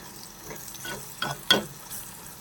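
A spoon stirs crushed dried red chilli into a frying mixture in a pan, giving a few soft scraping strokes over a quiet sizzle, with the sharpest scrape about halfway through.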